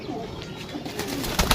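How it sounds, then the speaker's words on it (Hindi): Pigeons coo softly in short, overlapping calls, with a faint rustle and background murmur throughout. "कबूतर"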